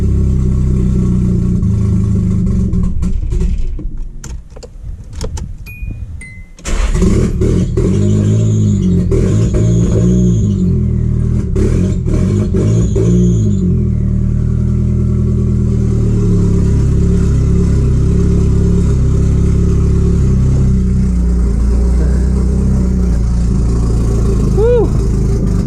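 A Nissan SR20DET engine cranks and fires up for its first start, then runs with a loud, steady rough idle and a few revs, close by, with people talking in the background.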